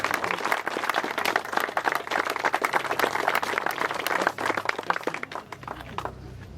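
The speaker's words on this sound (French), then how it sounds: "Merci, on peut les applaudir parce que..." An audience applauds at a Tour de l'Aude stage gathering in Saint-Laurent-de-la-Cabrerisse. Dense, continuous clapping fills the space for several seconds, then thins and fades away at the end.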